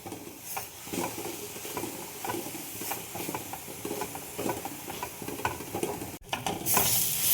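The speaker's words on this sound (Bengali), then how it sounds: "এইভাবে নাড়িয়ে নাড়িয়ে এটা ভাজা ভাজা করে" Ground bean paste (sim bata) stirred and fried in a pan, a steady close sizzle broken by repeated scraping strokes of the spoon, with no voices.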